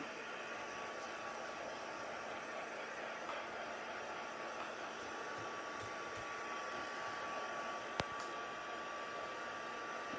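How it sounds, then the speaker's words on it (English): A heat gun on its first setting drying leaves gives off a continuous, even blowing roar that stays steady throughout, close and fairly quiet, with one brief click near the end and no voices. "we're just going to use the heat gun on the first setting"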